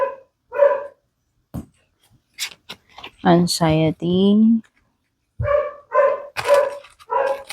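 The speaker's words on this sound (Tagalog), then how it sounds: "nagko-concert yung aso doon sa kabilang bahay" A dog at the house next door barks repeatedly late at night in short bursts, some nearby and loud, with a person speaking briefly in between the barks.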